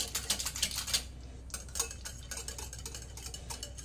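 Sour yogurt being beaten with a hand beater in a bowl, giving quick clattering metal-on-bowl strokes in bursts, then a brief pause and lighter, steadier tapping and scraping close by.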